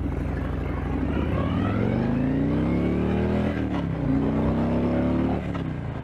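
A 2019 Harley-Davidson Street Glide motorcycle accelerates from a standstill to 50, its loud engine climbing steadily in pitch through two gear changes, with constant wind rush throughout.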